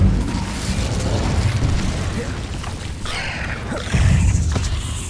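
Fire spell cast in Hogwarts Legacy, a burst of roaring flame and booming impacts amid ongoing combat noise, loud and close, with a second heavier blast near the end.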